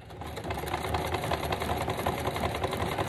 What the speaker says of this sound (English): I love how the sewing machine adds just another layer of texture to a journal and paper.